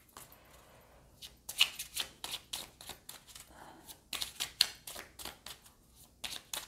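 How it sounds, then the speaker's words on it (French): Cards for the board game Welcome to New Las Vegas shuffled by hand, a series of quick riffling bursts with short pauses in between, close and moderately loud, with no one talking. "Je mélange sans regarder et je vais le mettre en dessous."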